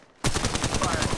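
Automatic gunfire in Apex Legends Mobile, a sudden loud burst of rapid evenly spaced shots starting after a short quiet moment and continuing to the end.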